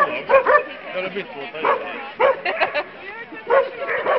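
Dogs bark in short, loud bursts of bow-wows and yips, spread across a few seconds, mixed with people talking nearby.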